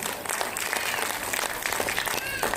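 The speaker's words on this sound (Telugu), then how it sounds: "తనకు ఒకసారి గట్టిగా చప్పట్లండి." An audience applauds after a classical dance performance on stage, a dense, steady patter of many hands clapping at moderate distance, with faint crowd murmur mixed in.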